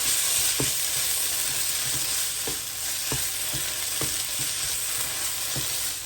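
Chopped coriander is stirred into a dosa chutney in a hot pan, a soft frying sizzle under regular scraping strokes of a spoon, close and quiet with no talk.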